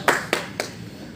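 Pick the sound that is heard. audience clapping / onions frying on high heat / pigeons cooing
audience clapping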